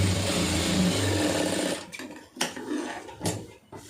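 Sewing machine stitching a chudidhar, a loud steady motor whir running close for a couple of seconds, then stopping and starting in short bursts with faint clicks.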